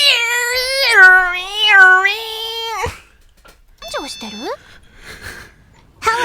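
A voice imitates the electronic Nokia ringtone melody in a string of sung, warbling notes that break off abruptly, followed by a few squeaky vocal sounds and a quiet pause.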